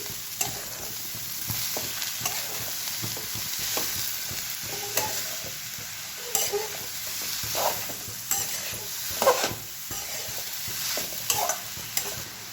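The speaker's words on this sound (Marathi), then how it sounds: "आता सगळी भाजी एकसारखी मिक्स करून घ्यायची।" Tandulja (amaranth) greens with salt are stirred in a pan, soft steady sizzling under repeated spatula scrapes and stirring strokes, close up with no talking.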